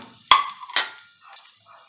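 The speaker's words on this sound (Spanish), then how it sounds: "Lo vamos a agregar para que se empiece a freír" Rice frying in a pot as it is stirred for Mexican red rice, with two sharp clanks of a utensil against the pot and a soft sizzle between them, close and alone.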